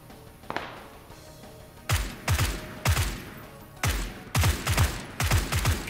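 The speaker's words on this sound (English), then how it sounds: "Someone's got a suppressed AR. You can hear it just going crazy." Suppressed assault rifle fire in PUBG, heard in several short, rapid bursts of two to four muffled shots with brief gaps between them, moderately close.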